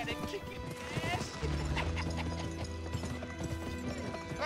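Horse hooves clip-clop in a fast gallop during a race in the game GUN, steady and close, with a neigh and a voice talking over the beat.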